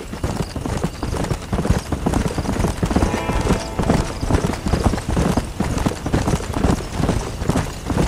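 Horse hooves clip-clop in Red Dead Redemption, a fast, steady rhythm that is loud and close, with rumble and faint background noise under it.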